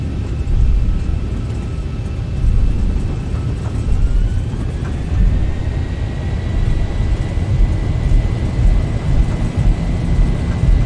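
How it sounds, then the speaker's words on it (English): Boeing 737 jet engines spooling up to takeoff thrust in a flight simulator, heard as a steady, loud broadband roar with a rising whine through the run, continuous for the whole stretch with no talk. "Takeoff thrust set. 80 knots. Throttle hold."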